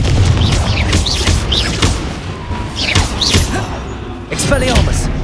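Explosive Confringo spell blasts in the Hogwarts Legacy video game, a series of heavy booms and crashing impacts spaced a second or so apart, mixed with combat effects and voice sounds throughout.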